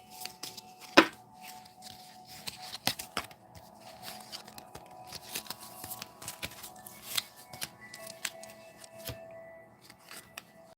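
Tarot cards are handled and shuffled up close, with irregular sharp riffles, slaps and paper crinkles that start with one loud snap and carry on in scattered bursts.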